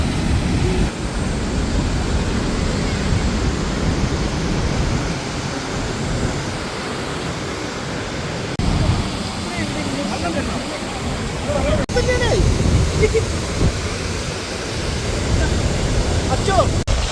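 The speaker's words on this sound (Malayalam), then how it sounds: "വെള്ളം വീണ ഫോഴ്സിൽ ആ സൗണ്ടിൽ നമ്മൾ ബാക്ക്ഗ്രൗണ്ടൊന്നും കേൾക്കണില്ല" Roar of Mallalli waterfall in Coorg, a steady, loud broadband rush of falling water filling the whole clip, with voices talking faintly underneath.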